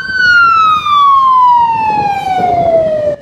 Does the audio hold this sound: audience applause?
no